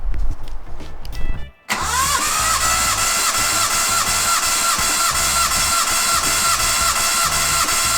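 A Datsun engine cranks over repeatedly on the starter for a compression test, a steady rhythmic churning that runs loud and close for most of the stretch after a brief pause.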